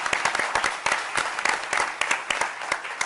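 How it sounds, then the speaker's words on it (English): Audience applause following a speech at a White House Champion of Change award event, a dense, steady wash of many hands clapping close by with no talk over it. "People usually clap after that"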